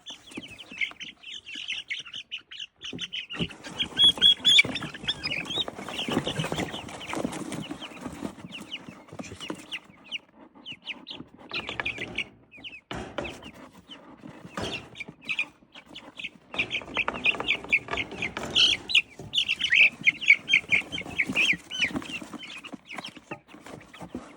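Domestic hens clucking and chirping on a Ukrainian farm, a steady busy chorus of close and mid-distance calls continuing throughout with no talk.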